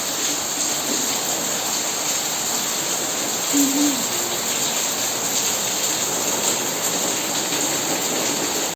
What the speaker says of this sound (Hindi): कितना जोर से बारिश हो रहा है।